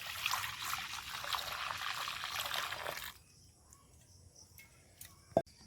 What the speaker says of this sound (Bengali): এই কড়ার মধ্যে দেখুন আমি দুধ দিয়ে দিচ্ছি।